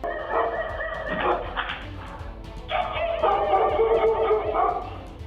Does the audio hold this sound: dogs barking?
yes